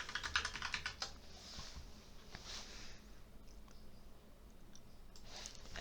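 Keys typed on a computer keyboard to search for a WordPress plugin, a quick burst of clicks up front followed by scattered taps, faint and close with no talking.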